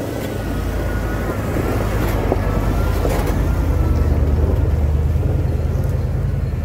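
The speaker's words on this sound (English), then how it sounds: "got another dump truck coming." A Russian Kamaz dump truck hauls a load of gravel and rumbles past close by, its deep engine drone steady and loud over wind noise.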